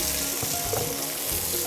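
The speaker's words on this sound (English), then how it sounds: "Whenever you're frying it, you can use a little bit of the oil, a little bit of the margarine." Food fries in a pan of oil and margarine with a dense, continuous sizzle and soft crackle, close and steady throughout.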